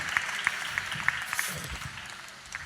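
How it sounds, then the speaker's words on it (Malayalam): Worshippers at a Christian healing service clap their hands in praise, giving a short run of scattered, fairly light claps that fade out within a few seconds. "ഒന്ന് കൈയടിച്ച് കർത്താവിനെ സ്തുതിച്ചേ"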